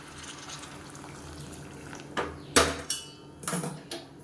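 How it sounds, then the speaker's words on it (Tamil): Hot water is poured into a pan of curry on the stove, with splashing pours and clattering bursts of metal against the pan over a quiet kitchen background. "இப்போ இந்த ஸ்டேஜில் தண்ணி சேர்த்துக்கலாம் நல்லா சுடுதண்ணியாக தண்ணியாக சேர்த்துக்கோங்க"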